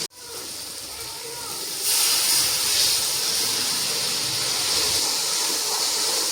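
Ginger and garlic hit hot oil with frying tomatoes and break into a steady, loud sizzle that swells after a moment and keeps hissing evenly without a break.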